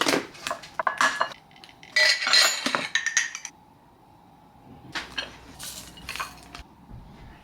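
Breakfast bowls and cutlery clink and clatter up close in quick bursts, with a quieter pause before more scattered knocks of dishes and utensils.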